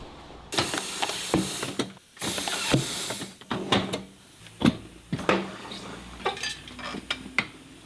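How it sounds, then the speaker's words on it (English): A tire machine works on a Honda Grom wheel in a shop, giving repeated metallic clanks, ratcheting clicks and scraping bursts in an irregular rhythm, close and fairly loud, with brief pauses between actions. "let's go over to the tire machine"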